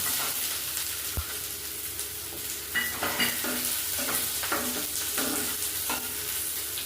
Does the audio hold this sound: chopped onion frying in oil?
yes